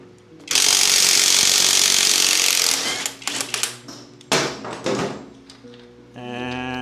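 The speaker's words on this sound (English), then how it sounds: "we'll pull this cotter pin and loosen up the axle nut" Loud, close bursts of a power ratchet loosening the axle nut on a Harley-Davidson motorcycle, one long sustained run followed by several shorter stuttering bursts and clanks in a garage.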